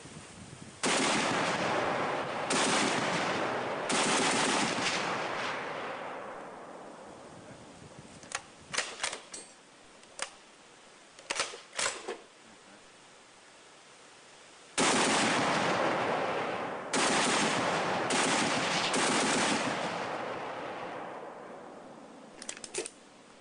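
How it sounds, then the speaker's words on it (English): Browning M2 heavy machine gun firing armor-piercing incendiary tracer rounds in long rapid bursts, loud and close, with sharp single and paired shots between the sustained strings of fire. "maybe 70 rounds of armor-piercing incendiary tracer left for my Browning M2, and we'll give it a few shots here"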